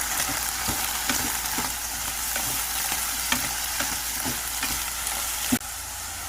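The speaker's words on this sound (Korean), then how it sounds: "멸치 대신 멸치 액젓 좀 넣고 그리고 진간장 좀 넣고 올리고당 좀 넣고 다글다글 볶다가요" Garlic scapes are stir-fried with anchovy fish sauce, soy sauce and syrup, making a loud, constant sizzle close by. A spatula clacks repeatedly against the pan, with a sharper knock near the end. No one speaks.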